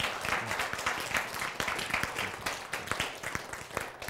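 Audience clapping during a Korean church lecture on the Bible and science, a steady burst of applause from a crowd indoors, moderately loud and sustained throughout without speech.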